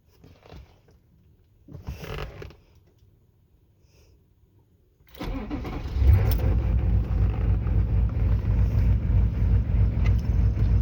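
A GMC 6.5L turbo diesel with a loped tune: faint knocks and brief sounds at first, then the engine fires and settles into a loud, close, rough, lumpy idle with an uneven rhythmic chug.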